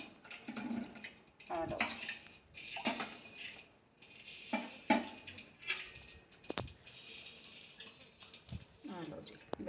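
Gulab jamun made from bread being placed into cooled sugar syrup, with a clatter of a metal pot and utensil clinks and light liquid stirring, while someone talks throughout.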